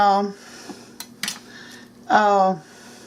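A knife cuts rotten spots out of a cabbage, giving a few sharp clicks and taps against a board between stretches of someone talking nearby.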